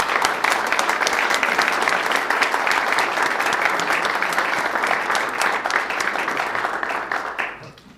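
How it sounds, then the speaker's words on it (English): Congregation applauding volunteers at a Sunday Unitarian worship service, a steady, dense wash of clapping throughout that fades near the end. "if I could ask for a round of applause for all these volunteers"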